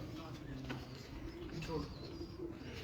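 Domestic pigeons, a fancier's flying birds, coo softly in low repeated phrases under steady background noise, with occasional chirps.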